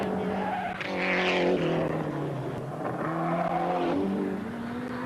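A race car at full revs through a corner on a racetrack in 1986 Hardies Heroes racing, engine note sweeping up and down with tire squeal, loud and continuous with no talk.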